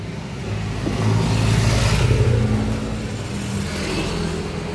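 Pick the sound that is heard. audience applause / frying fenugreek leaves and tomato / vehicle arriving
vehicle arriving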